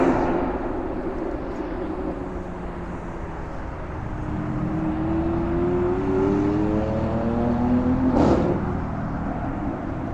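A car drives past on Ocean Parkway in Brooklyn, near the Belt Parkway overpass, its engine rising in pitch as it accelerates, then a sharp whoosh as it passes close, over steady traffic hum.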